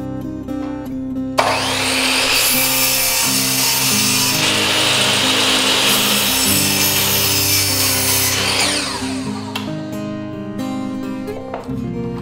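A power saw cuts the vertical wooden parts of an interior door frame in one long, loud, steady cut. Shorter, quieter tool noises come before and after it.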